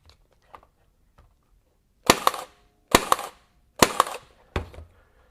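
A RIDGID 23 gauge pin nailer drives pins into wood: four sharp, close snaps spaced a little under a second apart, each with a brief clattering tail, following near-silence with a few faint taps.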